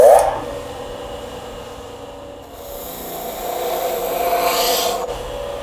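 A steady grinding rasp of a slip-cast ceramic mug against an abrasive surface on a spinning grinder, continuous and fairly loud, swelling slightly toward the end.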